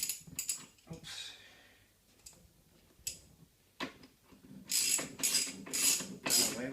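Lag bolt being driven in while installing a swing-out seat, heard as a run of ratcheting, ticking mechanical clicks with short bursts and louder rasping strokes toward the end, fairly close and without talk.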